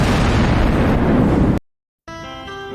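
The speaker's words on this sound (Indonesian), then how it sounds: "Dan bom pun diledakkan." A bomb blast from the film Hotel Mumbai: a loud, sustained broadband roar of explosion lasting over a second, cut to silence, then followed by a tonal, ringing aftermath.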